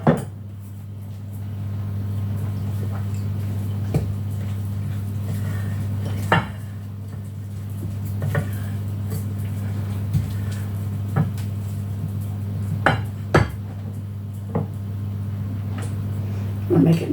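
Grated cheddar cheese being mixed into cornbread batter in a bowl for a Tex-Mex dish, giving a steady low hum with scattered light clinks and scrapes of utensil against the bowl.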